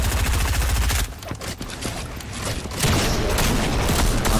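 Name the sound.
gunshots in a video game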